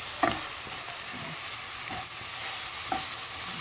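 Bajan cou cou ingredients, tomatoes among them, are stirred in a hot pot. A steady sizzle runs throughout, with a few soft scraping strokes of the spoon at roughly regular intervals.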